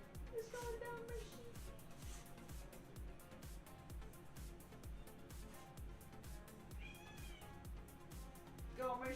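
A house cat meows a few times near the microphone, its calls rising over a steady rhythmic background of music or game sound, with a person talking at moments.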